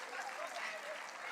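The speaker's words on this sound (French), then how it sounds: "Et on peut les applaudir." Steady, faint applause from an audience at a youth mini-enterprise festival award ceremony, a dense even wash of clapping heard from a distance with no breaks.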